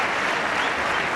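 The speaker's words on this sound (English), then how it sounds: "Now the applause starts." A cricket crowd in a stadium bursts into dense, sustained applause, loud and even throughout with no pauses.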